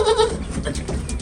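Goats bleat on a goat farm, several overlapping calls near and loud, with a strong cry at the start and more bleats following through the short stretch.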